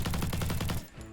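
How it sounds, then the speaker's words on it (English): Automatic gunfire from a gun in the video game GROSS, emptying a full magazine in one sustained rapid burst of evenly spaced, loud shots that cut off abruptly. "let's just empty a clip."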